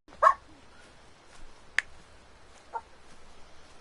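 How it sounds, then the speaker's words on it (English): A dog gives a few faint, sparse barks indoors, one short yelp near the start and two quieter ones later, set against low background hiss. "One of my dogs was acting up, so I was sending her out of the room."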